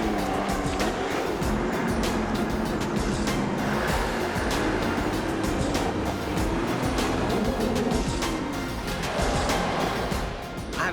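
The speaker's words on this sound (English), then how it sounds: "Some of these ruts are swallowing the car, so I'm trying to avoid them as best I can" A car crawls along a deeply rutted dirt track, its engine droning close by while the body and suspension give off a constant rough rumble and jostling clatter.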